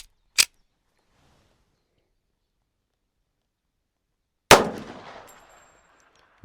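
A 1911 pistol firing .45 ACP handloads lets off two sharp, loud shots: one near the start, then a second about four seconds later that rings on with a decaying echo, with quiet between them.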